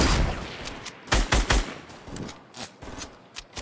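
Gunfire in a squad-based shooter video game: rapid bursts of shots and loud individual cracks, some near and punchy, others lighter and more distant, with no talking.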